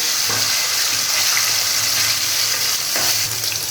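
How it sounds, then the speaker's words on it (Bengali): Paneer fries lightly in oil in a pan with a steady close hiss, broken by a few soft stirring scrapes, and no one speaks. "আমি পনিরগুলোকে এর মধ্যে দিয়ে একটু হালকা করে ভেজে নেব"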